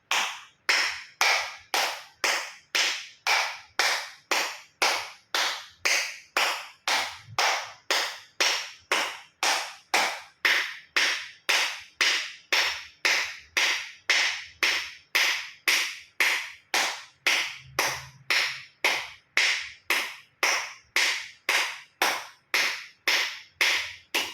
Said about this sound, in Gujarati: એક્યુપ્રેશર તાળી પૂરેપૂરા હથેળી આંગળા અંગૂઠા બધું ટચ થાય રીતે 50 વખત તાળી આપીશું